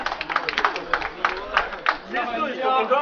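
Audience at a charity weightlifting event weigh-in: a brief burst of rhythmic clapping from a small crowd, fading into murmuring chatter and voices.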